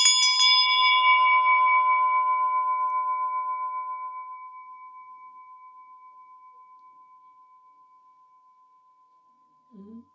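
Old school hand bell in a museum, struck once loudly and close, its bright metallic ring decaying slowly over several seconds, followed by a brief voice at the very end.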